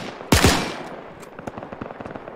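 Gunfire in Arma 3: a loud close shot or short burst, followed by a string of fainter, scattered distant shots crackling in the background.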